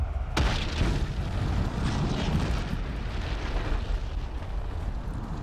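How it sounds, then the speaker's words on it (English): A bomb detonates in the battle game Ultimate Epic Battle Simulator with a sharp, loud burst, followed by a long, heavy roaring rumble that barely fades. "In case anybody forgets the destructive power of a bomb"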